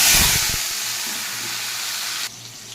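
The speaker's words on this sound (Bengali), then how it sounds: "কেটে রাখা আলু দিয়ে দিচ্ছি।" Cut potatoes drop into hot oil tempered with whole cumin and bay leaves, a loud sizzling hiss that bursts up at first, then settles into steady frying before dropping off abruptly near the end.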